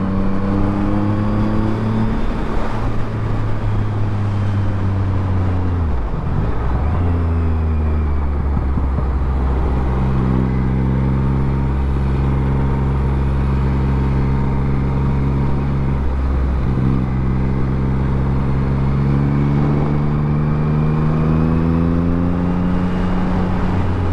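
A Yamaha MT-09 motorcycle engine howls loud and close, its revs climbing in long harmonic sweeps broken by quick dips as gears shift, then pulling up again into a sustained high drone.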